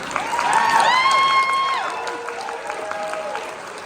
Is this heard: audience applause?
yes